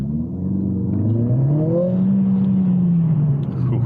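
A Mercedes CLA45s AMG in race mode on wet roads accelerates hard, its engine note climbing and swelling through the rev range, loud and close from inside the car with road noise underneath.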